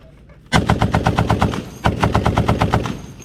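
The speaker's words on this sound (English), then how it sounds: "The .50 cal wasn't just some oversized machine gun bolted onto old trucks and airplanes." .50 caliber heavy machine gun firing two long bursts of rapid, evenly spaced booming shots, loud and close, with a short pause between bursts.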